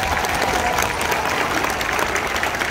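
Steady applause from a crowd at a seal show, dense and continuous clapping filling the whole moment with no voices standing out.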